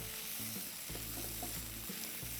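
Green chillies sautéing in hot oil with ginger garlic paste, a close, dense sizzle with rhythmic scraping and stirring strokes, brief and without talk.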